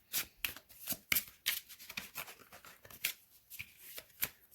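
Tarot cards being shuffled by hand in a quiet room, a run of soft, crisp riffling bursts in an uneven rhythm, close and alone.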